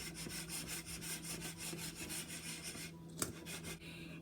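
A cheesecake pan with its filling poured over a chilled graham cracker crust is shaken to settle, giving a close, steady rattling rub in rapid pulses, then a brief pause and one sharp knock.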